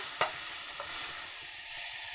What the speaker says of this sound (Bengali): আমি ওর মধ্যে নুন আর হলুদ মাখিয়ে রেখেছি। এবার ভালোভাবে ভেজে নেব।